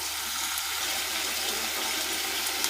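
Water pours from a mug into a cooking pot with chicken for nahari, a continuous splashing gush, close and steady for the whole moment without talk.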